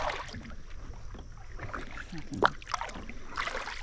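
Canoe paddling through swamp water on the Suwannee Canal in Okefenokee, with soft irregular splashes and water swishes close by over a steady outdoor wind background.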